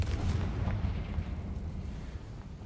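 A Confringo spell explosion in the Hogwarts Legacy video game lands as a deep, rumbling blast that fades slowly into a dull low roar.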